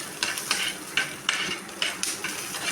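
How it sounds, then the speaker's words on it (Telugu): Peanuts and green chillies frying in oil, a utensil scraping and tapping the pan in a quick, regular rhythm of about seven strokes over a faint sizzle, close up with no talking. "పల్లీలు వేసుకొని పచ్చిమిర్చి కొంచెం ఆయిల్ వేసి ఇలా వేగేదాకా"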